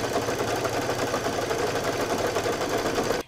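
Home embroidery machine stitching a tack-down line on backing fabric for in-the-hoop buntings, a steady, fast mechanical whirring and needle chatter that holds evenly throughout and then cuts off.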